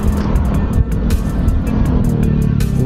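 Road traffic on the Davao national highway near a construction site, with a steady, loud, continuous rumble of passing vehicles and engine noise. No voices are heard.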